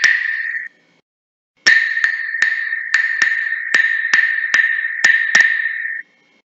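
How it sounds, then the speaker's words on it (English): Claves knocked together, one sharp click first, then a pause and a quick run of about ten bright wooden clicks in an uneven rhythm, loud and close with nothing else heard. "That's the sound of the claves"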